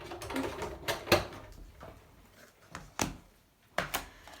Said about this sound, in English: So you just have to talk amongst yourselves while I'm doing the die cutting.